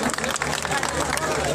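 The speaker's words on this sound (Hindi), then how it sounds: "वाइस साहब जोरदार तालियों से इनका स्वागत करें।" An outdoor political rally crowd applauds to welcome a new party member, a loud, steady roar of clapping mixed with crowd noise and voices.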